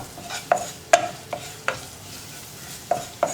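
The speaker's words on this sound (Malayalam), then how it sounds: "ലോ ഫ്ലെയിമിൽ വെച്ച് ഇളക്കി മിക്സ് ചെയ്തെടുക്കുക" Chili powder is stirred in a pan over a low flame for a pumpkin curry: a spoon knocks sharply against the metal at irregular intervals above a faint, low sizzle.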